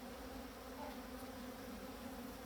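A dense, continuous drone of many bees buzzing in an opened beehive during an inspection, steady and close with no pauses or voices.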